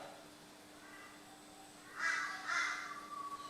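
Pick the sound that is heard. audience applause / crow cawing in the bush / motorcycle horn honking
crow cawing in the bush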